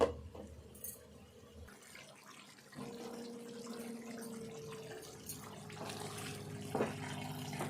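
Half a glass of water poured into a potato chicken curry in a pot, a steady close trickle running for several seconds after a brief clatter.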